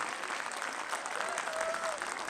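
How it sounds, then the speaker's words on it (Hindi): An audience claps in a school auditorium during an annual function, a dense steady burst of applause that fills the hall briefly. "आपकी तालियों की गड़गड़ाहट से ऑडिटोरियम गर्म हो जाना चाहिए।"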